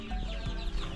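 Young pullets about one month old clucking and peeping in a pen, several soft overlapping calls close by in a short burst with no talk.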